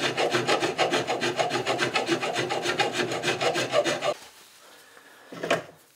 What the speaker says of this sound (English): create a little flat spot around the pin and then sand to it